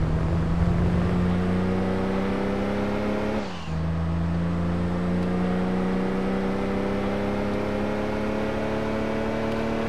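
Fiat 500 engine with a short gearbox in Gran Turismo 2, a steady loud revving drone that dips briefly for a quick gear change near four seconds, then holds high revs to the end, with no voices.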